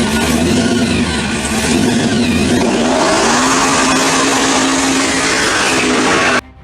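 A 1969 Plymouth GTX with a 426 Hemi V8 revs hard and loud up close, a dense, roaring engine note that shifts in pitch partway through and cuts off abruptly at the end.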